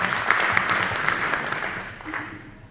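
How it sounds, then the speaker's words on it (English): Applause at a general assembly meeting of an international horse racing federation, a fairly loud burst of clapping that gradually thins and fades out over a few seconds. "Give her a round of applause for Lara"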